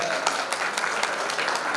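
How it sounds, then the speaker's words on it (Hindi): Audience applause at a traditional wedding event, a brief burst of steady, dense clapping from a crowd, close and fairly loud. "एक बार जोरदार तालियां हो जाए"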